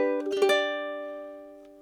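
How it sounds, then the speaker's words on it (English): A single chord strummed on a Kala Metropolitan Curly Mango tenor ukulele strung with a high G, with a quick brushed attack and a clean, bright ring that sustains and slowly fades over about two seconds. "And when I play a chord with the high G,"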